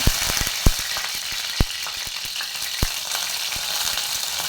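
Curry leaves drop into hot oil for a bean and potato bhaji, setting off a loud, close crackling sizzle with sharp pops and spits that are densest at first and then settle into steady frying.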